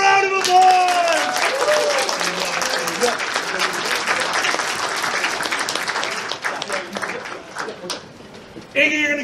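Applause and cheering from a furry convention charity event crowd, loud sustained clapping with shouts and voices mixed in, gradually thinning toward the end where talking resumes.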